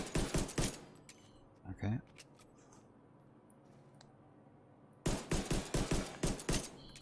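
Pistol gunfire in the video game Division 2 comes as rapid bursts of sharp shots at the start and a longer volley at the end, separated by a quiet gap in which someone says a single word.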